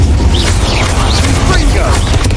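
A fire spell, Incendio, is cast in Hogwarts Legacy as a continuous rumbling game effect with sweeping whooshes and low booms layered over a steady bed of game sound.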